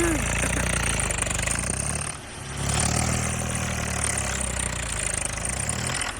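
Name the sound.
GS6 model tractor engine starting and running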